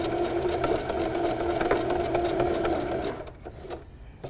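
A sewing machine runs in a steady, fast, close whir as it stitches fabric for bat-shaped treat bags, then slows and stops near the end, leaving quiet handling noises.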